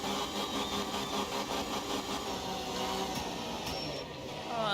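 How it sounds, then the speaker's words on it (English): A race car engine in Assetto Corsa Competizione on the Nordschleife hits the rev limiter, a dense, loud, buzzing high-revving drone that holds steady and stutters slightly near the end, with no talking over it. "Back onto the rev limiter."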